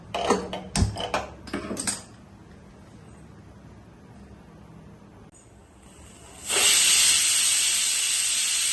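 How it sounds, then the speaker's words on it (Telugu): A pressure cooker of chickpeas lets out a loud, sustained steam hiss that starts abruptly and continues steadily, after several sharp clatters and a quieter stretch. "కుక్కర్ మూడు విజిల్ వచ్చేసిందండి"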